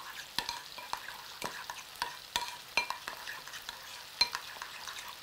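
Seasoned chicken for fajitas stirred in a frying pan: a soft background sizzle punctuated by a rhythmic series of sharp scrapes and clicks from the spoon against the pan, with no talking.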